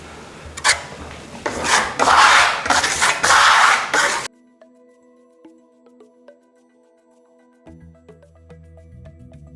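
A trowel scrapes and rasps in several quick strokes while skimming a plaster coat across a wall, close and loud, then stops into near silence.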